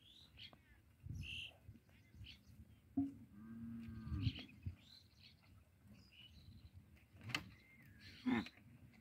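Cattle and loose calves on a farm in Sirajganj give several low moos at intervals, moderately close, amid birdsong and other farmyard noise.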